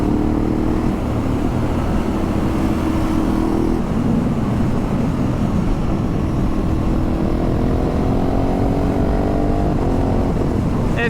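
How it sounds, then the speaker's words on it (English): Ducati Hypermotard 950 RVE motorcycle with a quick shifter, its exhaust droning loud and steady throughout, with rising and falling engine tones as it shifts through gears. "listen to that exhaust with the quick shifter"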